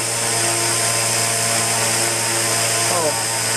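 A V120D02 RC helicopter's rotor spins at high head speed near 5,000 RPM, making a loud, steady, close whine with a slight pitch dip near the end while a person talks over it.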